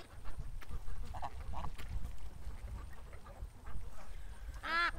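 Goslings and ducklings give scattered short quacking and honking calls, a few close bursts over a low, busy farmyard rumble.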